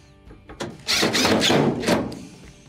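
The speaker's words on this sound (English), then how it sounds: "Next, switch over to your Phillips bit. Reattach your two screws inside." Screws being driven back in with a Phillips bit inside a Maytag dryer under repair, heard as a few close, loud bursts of a power driver with knocks and handling noise, no talk.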